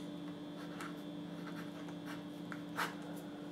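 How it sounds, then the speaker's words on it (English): A pen scratches out numbers on paper in short, faint strokes, close and quiet in a still room. "So write out your number and then write it out again backwards."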